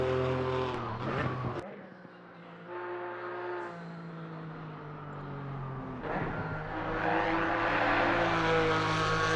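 The number 9 Porsche GT4 race car laps Watkins Glen, its engine droning steadily and loudly, pitch rising and dropping through gear changes and a sharp shift, with no talking.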